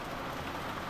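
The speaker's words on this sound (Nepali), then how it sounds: "यही पानी पर्न लागिरहेछ फेरि" Steady, even rain hisses down outdoors at an adventure park, a constant wash of drops filling the whole moment without a break.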